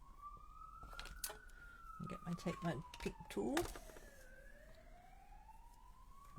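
Emergency vehicle sirens wail faintly outside, a long, slowly gliding tone heard in the distance beneath nearby speech and small clicks of handling tools indoors.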